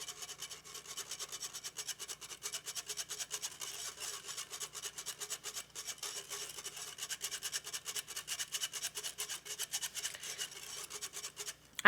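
Wire whisk rubbing cocoa powder through a fine-mesh sift strainer, breaking up small lumps for a red velvet bundt cake, giving a steady rapid scratchy rasping that stays close and continuous throughout, with no talking.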